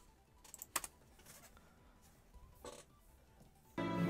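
Computer keyboard typing comes in scattered, quiet bursts of clicky keystrokes with pauses between, then a louder, rougher noise cuts in near the end.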